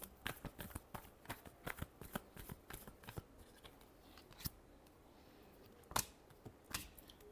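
Tarot cards are shuffled by hand close up, giving a quiet series of crisp, irregular flicks and slaps, with a few sharper snaps near the end.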